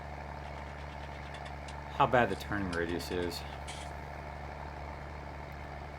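A Fiat tractor's engine idles steadily in a roleplay video game, a low, continuous rumble that runs throughout while someone speaks briefly over it.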